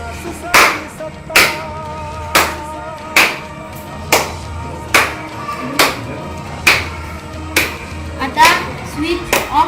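Sharp single hand claps ring out one after another at a steady pace, roughly one per second, close and loud in a school classroom, used to switch on a small robot's light.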